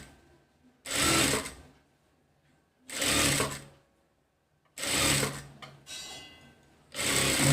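A sewing machine stitches a cowl sleeve onto an umbrella frock in four close, even bursts of whirring with short quiet pauses between them, and no voices.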